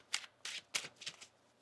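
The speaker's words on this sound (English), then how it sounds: "One more shuffle here." Tarot cards being shuffled close by, a few quick crisp riffling bursts separated by short pauses, quiet and with no talking.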